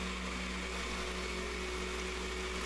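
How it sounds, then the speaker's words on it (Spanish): A blender grinding vanilla cookies into powder for a cheesecake crust, a constant, high-pitched motor whir with a coarse grinding buzz, steady and close throughout. "la vamos a poner en la licuadora para molerla perfectamente"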